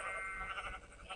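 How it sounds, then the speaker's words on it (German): A Minecraft sheep bleats against a dense, noisy game background, a short burst of wavering bleats heard close with no talk. "Hey, Schaf, was machst du hier?"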